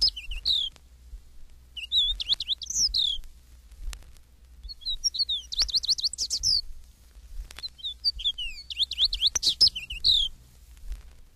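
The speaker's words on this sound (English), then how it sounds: "Orchard Oriole." An Orchard Oriole sings clear, rapid whistled phrases in several bursts with short pauses between them; the song is close and distinct against a quiet background, and no one speaks.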